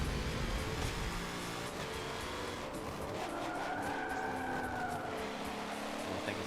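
A BMW race car in Forza Motorsport 7 revving hard with drawn-out tire squeal and skidding over a constant engine roar, loud and continuous throughout, no talking.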